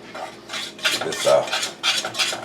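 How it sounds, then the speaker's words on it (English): A whisk stirs banana pudding in a pot in quick scraping strokes, about six rhythmic metallic swishes against the pan, close and fairly loud with no talking. "quick whisk to stir any skin in that's developed"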